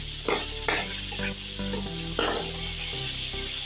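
Chopped onion hits hot oil in a pan for Chinese pulao, a loud steady sizzle and fry running throughout with a few stirring clatters.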